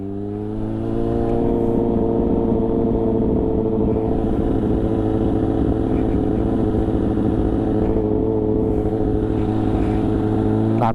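A Kawasaki Z800 motorcycle held in first gear on a forest road drones steadily and close, its engine note loud and sustained with little change in pitch throughout.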